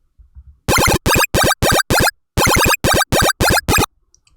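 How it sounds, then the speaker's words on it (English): Synth run through FL Studio's wrapper arpeggiator: two bursts of rapid, evenly spaced bright buzzy notes, five stabs each with a short pause between groups, loud and alone. "arpeggiator thing that's built into the FL wrapper settings"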